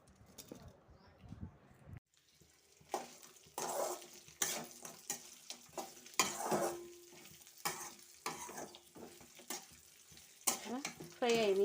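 Broad beans (chikkudu) fry in a pan for a Telugu home-style stir-fry, bursts of sizzling and spatula scraping against the pan coming in uneven waves, close by, after a brief quiet start.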